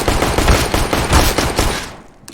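Rapid bursts of pistol gunshots in Counter-Strike: Global Offensive on the Cache map, several sharp close shots in quick succession that trail off near the end.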